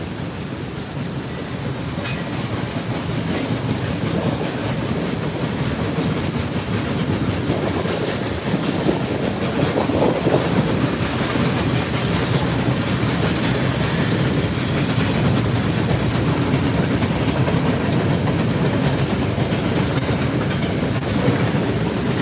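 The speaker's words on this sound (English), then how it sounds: "how long is this train?" A long freight train rolls past up close, steady loud rumble with continuous clickety-clack of rail car wheels over the joints and faint squeal, sustained for over twenty seconds without talk.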